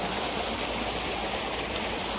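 Biwa Waterfall at Shirayama Hime Shrine in Ishikawa pours in a steady, unbroken rush of falling water, close and full, with no voices over it.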